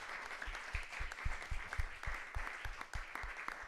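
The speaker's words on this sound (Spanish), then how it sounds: "vamos a dar un aplauso a estos 4 campeones" A faint, distant audience applauds for a few seconds at the close of an agri-food sector panel, giving a steady patter of claps with a low rumble underneath.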